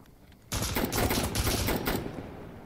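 Rapid automatic gunfire from the video game Insurgency: Sandstorm opens in a sudden dense burst of close shots that rattles on for about a second and a half, then tapers off into a quieter trailing tail.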